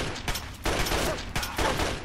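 Bursts of gunfire from the video game Fallout 3, several loud volleys of rapid shots in quick succession with brief gaps, dense and close throughout.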